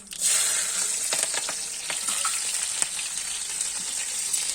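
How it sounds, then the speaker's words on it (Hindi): Vegetables with garlic frying in a pan over a stove, giving a continuous bright sizzle with scattered pops and crackles, steady and close, with no voices. "चूल्हे पर छुक रही है सब्जी।"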